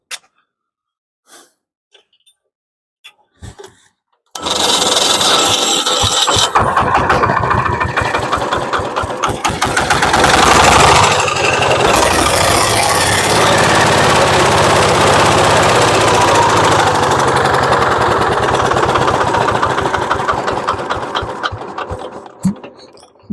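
A repaired Zubr tractor, its cracked flywheel welded, cranks after a few faint knocks, then catches and runs with a loud, rough, clattering engine that idles steadily for nearly twenty seconds before cutting off.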